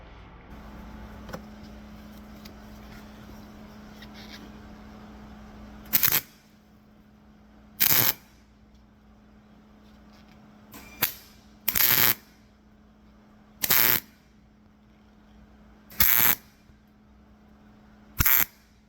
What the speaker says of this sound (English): We're going to go ahead now and get this tacked together